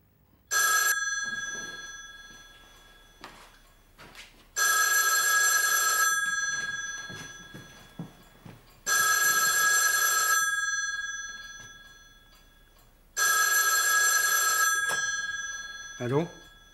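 An old telephone bell rings loudly in four long bursts separated by pauses, with faint voices and movement between the rings.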